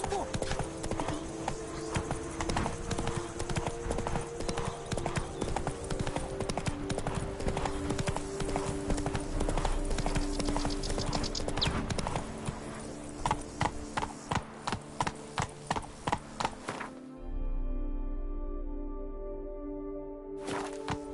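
Horse galloping in the video game Witcher 3, with loud, rapid, rhythmic hoofbeats that slow to spaced clops near the end, over a layered game soundscape.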